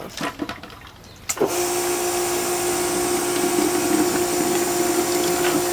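A pressure washer sprays into the inside of a Puch Maxi moped gas tank, starting after a few light knocks and then running as a loud, steady, close hissing roar with a constant hum.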